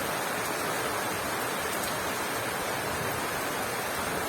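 Monsoon rain falls steadily outside in a village, a soft, even hiss with no breaks or voices.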